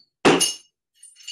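A ceramic tile shatters for a mosaic craft, a single sharp crack and crunch of breaking pieces, followed by faint clinks of fragments settling.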